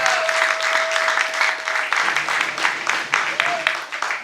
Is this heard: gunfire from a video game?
no